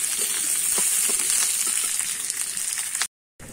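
Chilli, garlic, onion and ginger crackle in hot oil in a pan, a steady bright sizzle with soft stirring knocks, continuous and close, then cutting off abruptly near the end.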